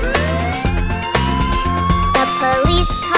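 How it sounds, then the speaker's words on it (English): A police car siren wails in a repeating rising-and-falling woo pattern, loud and close over a bouncy musical backing in a children's learning cartoon. "The police car siren goes woo, woo, woo."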